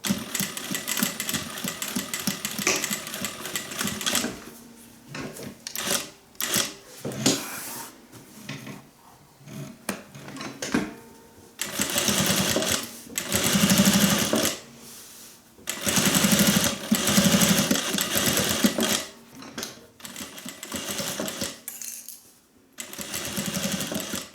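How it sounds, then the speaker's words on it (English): A sewing machine top-stitches around a sling bag in several bursts of rapid mechanical chatter, with short pauses between runs and no talk. "you just top stitch all the way around there"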